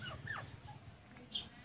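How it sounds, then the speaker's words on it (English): Chickens cluck softly nearby in a quiet setting, a few short calls followed by a sharper, higher squawk near the end. "These are chickens."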